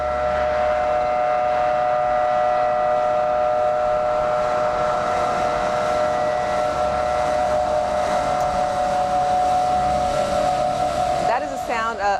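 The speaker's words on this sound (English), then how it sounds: "Of the sirens that you would hear throughout Kuwait City" A long, wailing air raid siren drones steadily over a broad background rumble, loud and sustained, then breaks off abruptly near the end, sounding over Kuwait City at the start of the Iraq War in March 2003.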